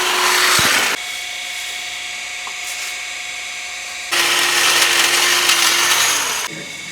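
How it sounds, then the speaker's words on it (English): A power hedge trimmer cuts tree branches in two loud, buzzing bursts, each lasting a couple of seconds, with a lower idling hum between them. "Ray, how you like that new trimmer?"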